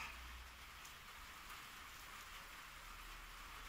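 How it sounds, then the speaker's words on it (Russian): Steady rain falls continuously, a dense hiss of drops on surfaces with no pauses and no voices. "У нас дождь идет."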